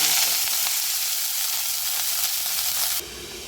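Pumpkin stem sautés in a spoonful of coconut oil with a steady close frying hiss that drops suddenly near the end, no voices.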